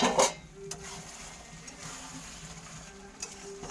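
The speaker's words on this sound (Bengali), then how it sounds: "আমি ঢাকনাটা খুলে বারবার লেড়ে" Mutton curry being stirred in a pan, with a spoon scraping and clinking at the start and a soft simmering sizzle continuing faintly in the background.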